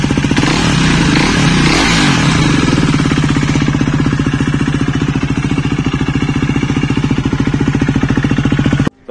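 A KTM Duke 390 motorcycle with a loud aftermarket exhaust blips and revs up, then settles into a rapid, heavy thumping idle close by, cutting off at the end.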